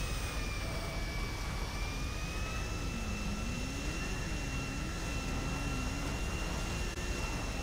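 A jet's engine burns in GTA 5 Online, making a steady, dense roaring whine with sustained tonal hums and a wavering low tone, constant and loud throughout.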